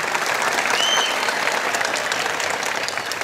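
Classroom audience bursts into dense, loud applause after a student's correct quiz answer, many hands clapping continuously for about three seconds with a faint whistle-like tone near the start.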